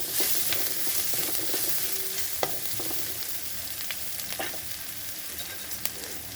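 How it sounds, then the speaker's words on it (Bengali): Chopped garlic and onion frying in oil for tarka dal, a close steady sizzle broken by sharp scraping stirs and clicks of a spoon against the pan. "রসুনটা দিয়ে আর একটু ভেজে নেবো"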